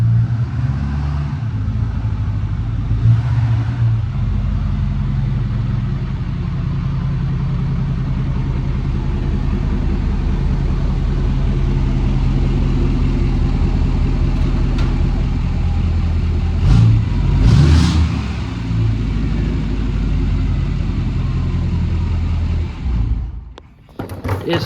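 A 2022 Chevy 2500 Duramax diesel pickup with a deleted exhaust runs steadily, a loud, deep, continuous engine drone close by with slight swells in revving before it cuts off near the end.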